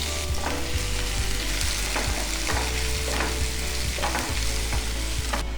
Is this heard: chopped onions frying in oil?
yes